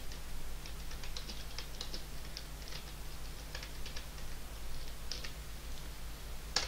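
Someone types on a laptop keyboard in quick irregular bursts of light clicks and taps, near and fairly quiet over a low steady hum, with no talk.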